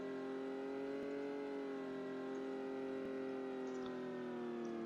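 A car in the video game Unturned drives at speed, its engine a steady, faint droning whine whose pitch drifts slightly as it travels, with no talk over it.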